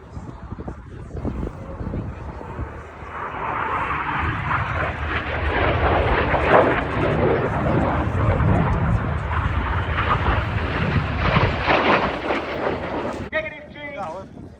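Aerobatic display jets roar past at the Cosford airshow, crossing overhead while pulling hard at up to 6G; a loud, broad engine rush builds and holds steady for over ten seconds, with wind buffeting the microphone and a commentator talking over it.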